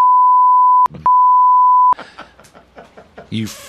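A steady censor beep tone cuts across the start of a radio talk show, sounding twice with a brief break between, then giving way to lively talking and laughter from several people.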